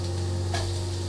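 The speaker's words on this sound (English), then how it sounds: "Just for a few seconds, garlic in there." Garlic drops into a hot pan and sizzles with a short burst of frying hiss over a constant low hum, lasting only a moment.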